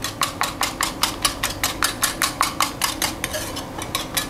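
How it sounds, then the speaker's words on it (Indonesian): Eggs being whisked with grated cinnamon powder, a steady rapid rhythm of whisk strokes against a bowl, about four per second, close and fairly loud with no talk. "Sekarang kita kocok lagi."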